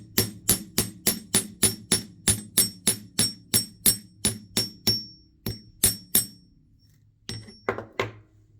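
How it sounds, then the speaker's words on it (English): Metal wire for a wire-wrapped pendant frame being tapered with a hammer: a rapid, even series of sharp close taps, then a few slower, spaced strikes and a brief scrape near the end. "I'm just going to tap at the straightaways to transition my wider metal into my rounder metal"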